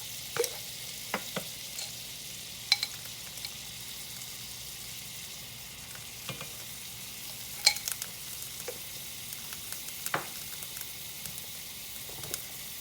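Minced garlic and onion powder frying in a cast iron skillet, a faint steady sizzle beneath scattered light taps and scrapes of a utensil mixing them over several seconds.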